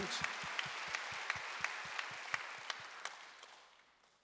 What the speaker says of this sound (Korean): 박수하다.